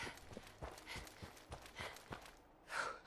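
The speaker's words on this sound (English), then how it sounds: "Triple just did footsteps. That's what it was" A footsteps sound alert played on a live stream, with a series of evenly spaced heavy thuds, like hooves or boots, stepping close and clear before a brief breathy sound at the end.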